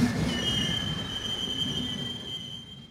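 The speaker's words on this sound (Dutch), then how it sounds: "neemt de trein naar Parijs" In an audio story, a train runs along the rails on the way to Paris, a steady rumble with a long, high metallic wheel squeal that fades slowly. No voices are heard.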